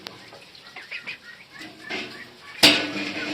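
Ducks and hens crowd a 20 kg feeder on a farm during 32°C heat, giving scattered soft clucks and quacks and ending with a sudden close burst of flapping wings.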